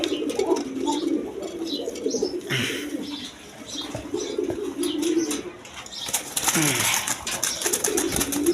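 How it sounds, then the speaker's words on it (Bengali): Pigeons at a bird market, soft cooing and wing flaps running steadily throughout, with a louder flurry of wingbeats near the end amid general background bustle. "এখানে একদম ছটপটা কবুতর"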